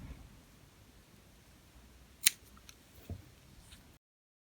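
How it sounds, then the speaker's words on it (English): Scissors make a single sharp snip cutting elastic in a quiet room, followed by a fainter click a moment later. "you take your scissors and then you cut"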